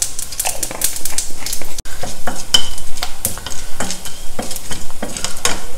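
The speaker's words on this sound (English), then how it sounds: "Add some mustard seeds, urad dal, 2 dry red chilies, a little bit of hing," Mustard seeds, urad dal and dry red chilies with a pinch of hing crackle and sizzle in hot oil in a pan, close and loud, with repeated sharp popping bursts and spoon-stirring clatter throughout.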